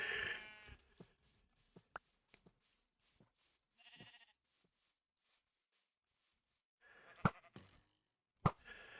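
Sheep bleat in a video game, a few short wavering calls early and midway, with sparse clicks and two sharp knocks later; faint overall, with a little talk.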